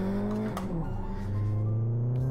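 A racing car engine in the Live For Speed driving game holds a steady, loud rev with a sustained harmonic drone whose pitch dips and climbs briefly in the middle.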